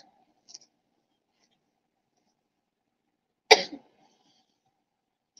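A single sharp cough breaks an otherwise quiet room, close and brief, with a faint click a few seconds before it.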